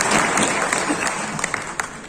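Dense applause from a rally audience at a large party workers' convention in Jaipur, a steady crackling wash of clapping that holds for about two seconds with a few sharper individual claps near the end.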